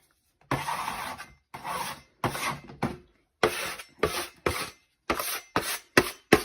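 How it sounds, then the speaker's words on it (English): Someone scrapes a baking pan used for gingerbread house pieces in about ten short, rasping strokes, each separated by a brief silence, close and fairly clear. "Scrape your pan off before you use it."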